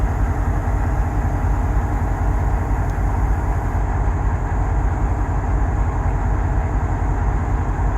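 Railway locomotive engine idling without revving, a steady heavy low-pitched diesel drone that stays constant and close throughout, with no changes in pitch.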